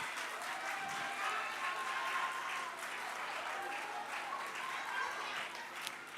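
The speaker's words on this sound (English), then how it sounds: "Let's clap for them." A quiz-competition audience claps steadily for contestants in a national investment quiz, a dense, sustained wash of applause with faint voices mixed in throughout.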